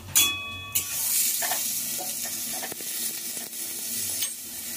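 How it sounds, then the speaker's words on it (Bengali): Potatoes frying in a pan with cumin and chili, a steady close sizzle and hiss throughout with a few sharp stirring scrapes against the pan, no voices. "একদিকে আলু ভাজা হচ্ছে"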